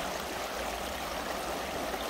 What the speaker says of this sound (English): We're going in the water. Trudging through the water.